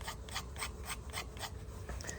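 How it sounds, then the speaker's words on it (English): Sandpaper rubbed downward around the edge of a small wooden fingerboard, in quick rhythmic scratchy strokes roughly four per second, close and fairly quiet, with no voices. "So just sand downward 90 degrees all the way around the board."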